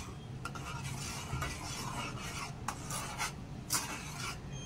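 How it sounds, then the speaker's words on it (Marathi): Horse gram pithi bubbling as it cooks and being stirred, a quiet hiss broken by intermittent scrapes and light clinks of a spoon on the pot. "तर मी अशी ढवळते"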